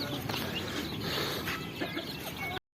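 A chicken clucks while pecking at chick feed, short throaty calls over a busy, noisy farmyard background that ends abruptly.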